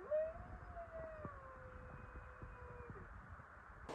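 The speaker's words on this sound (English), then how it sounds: "Got to hear the wolves howling" Wolves at an animal park in Norway howl in the distance, with long, wavering, sliding tones overlapping one another. The sound is faint, drifting through trees and over a hill against a steady background hiss.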